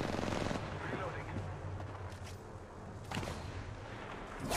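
Rapid submachine gun fire from an R-99 in the battle royale game Apex Legends, a dense stream of shots loudest at the start and again near the end, with game effects and voice chat mixed in.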